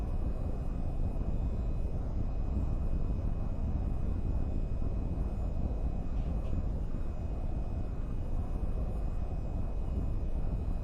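A military jet taking off from runway 31 in the VTOL VR flight game, its engine a loud, dense roar that holds steady and unbroken throughout.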